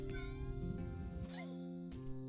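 A cat meows in the cozy video game Cozy Grove, giving a few short rising and falling cries over a steady game music bed with soft chimes.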